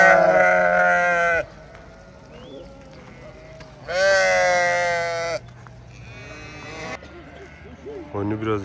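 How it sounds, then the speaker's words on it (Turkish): Several sheep of a flock bleat loudly and close by in long wavering calls, separated by quieter gaps, with other bleats fainter in the background, near a dam road. "Koyunu biraz burada toplayıp öyle götüreceğiz asfalt."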